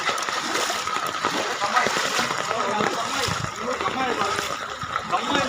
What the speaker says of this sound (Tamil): கம்மாயிலிருந்து எவ்வளோ தண்ணி வருது